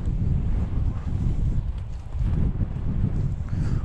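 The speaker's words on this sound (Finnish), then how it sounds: "Kova on tuuli, ei auto." Strong wind on an outdoor fishing trip in Swedish Lapland, a loud, steady low rumble buffeting the microphone with gusty swells throughout and no other clear sounds.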